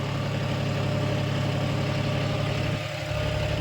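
A John Deere 5045 tractor engine pulling a five-bottom plough under load, a steady loud diesel drone with a slight dip in pitch near the end as the revs sag.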